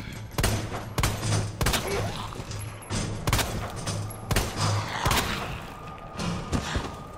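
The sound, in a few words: gunshots in the video game Resident Evil 2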